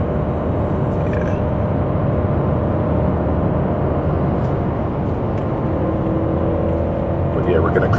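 A supercharged BMW E92 M3 cruises at night, its engine and road noise forming a steady, loud low rumble heard from inside the cabin throughout, with no talking.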